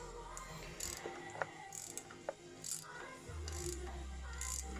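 A wrench working the bolt on a FIBA Motorsport crank locking tool to seat a crank seal, giving faint ratcheting clicks in short bursts with occasional metallic ticks, quiet and close, followed by a low steady hum.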